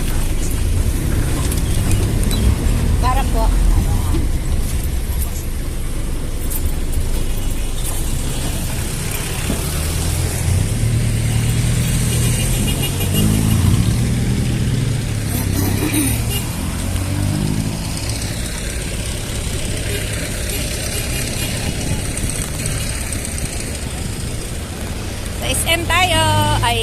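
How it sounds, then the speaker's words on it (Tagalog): Jeepney on a ride toward San Fernando, its engine droning and revving steadily throughout with road noise, while people talk briefly over it. "Sakay tayo na jeep."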